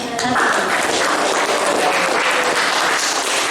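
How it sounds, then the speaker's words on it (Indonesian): Classmates in a seventh-grade civics classroom applaud a student group, a dense continuous wash of clapping filling the room, loud and sustained throughout with a few voices mixed in. "Oke, tepuk tangan buat kelompok 1."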